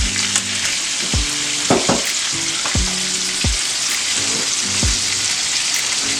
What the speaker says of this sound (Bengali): এটা একদম ফ্রাই, ডিপ ফ্রাই করতে হবে